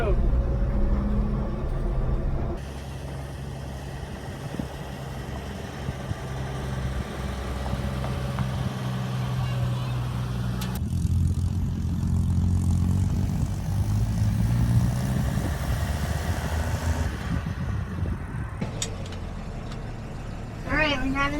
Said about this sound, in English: Alright, we're driving the truck.